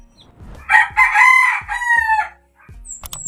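Rooster crowing loudly and close at hand, one long cock-a-doodle-doo lasting over a second, followed by brief clucks from backyard chickens kept in the shade of a tree at midday.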